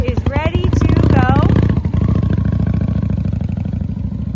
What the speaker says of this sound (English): This is a 2001 Honda Shadow Spirit. It's a 750.